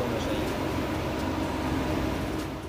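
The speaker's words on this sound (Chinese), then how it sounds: "现在来听一下这个增程器静止状态下启动的声音" A range-extender generator in a stationary car runs as a steady, even drone with a low rumble beneath broadband noise. It stays fairly loud throughout and tails off slightly at the end, with no voices.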